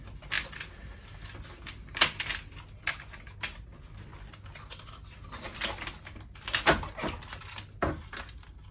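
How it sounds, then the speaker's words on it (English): Commodore 64 keyboard unclipped and lifted out of the case, heard as scattered close plastic clicks, knocks and rattles at irregular intervals over low background hiss. "I'm gonna remove the keyboard, which is just held in place by this clip, so no need for unscrewing anything."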